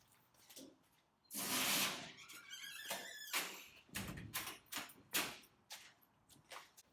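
Paint booth doors being pushed shut with squeaks, sliding scrapes and a few solid knocks, close by and irregular, with no talking.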